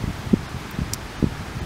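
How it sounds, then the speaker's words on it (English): Soft, gusty wind stirs leaves into a faint, intermittent rustle, with a few small crackles scattered through the short stretch. "It's kind of windy too."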